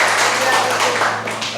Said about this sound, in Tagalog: isang palakpak naman siya.